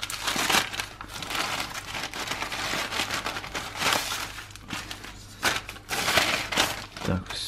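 Thin plastic parcel from an online order, holding butterfly stickers, crinkles and rustles steadily as it is torn open and handled up close, with louder crackling bursts throughout.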